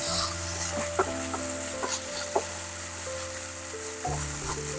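Sabudana khichdi sizzles in a pan while a spoon stirs it, giving a steady close frying hiss broken by several distinct scraping and tapping strokes at an uneven rhythm.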